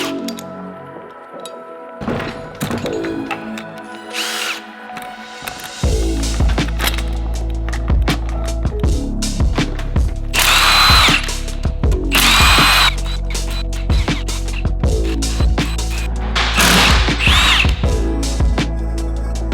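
A power tool removes the bolts holding the two cases of a Honda Civic Si transmission together, coming in repeated loud bursts with pauses between them, close by, alongside clanks and ratcheting.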